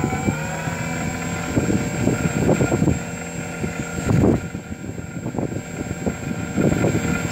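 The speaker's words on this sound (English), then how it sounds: "noise of the prop wash and motor won't be too troublesome" An RC model aircraft's electric motor whines steadily with prop wash rushing in pulsing surges as throttle is applied and eased, close and continuous, with wind buffeting the microphone.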